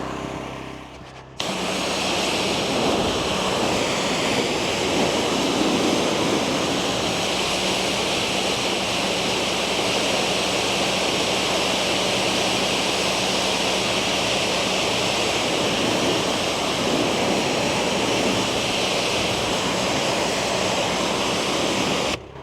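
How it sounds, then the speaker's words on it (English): Pressure washer blasting hot water onto a roof ice dam, a steady, loud broadband hiss of spray that starts abruptly and runs continuously without pause, with no talking. "we'll just put some hot water down the corners and let it eat"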